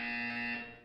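A steady electronic buzzer tone from the Portal 2 video game, sounding continuously at a constant pitch for under a second and trailing off slightly at the end, alone with no talk.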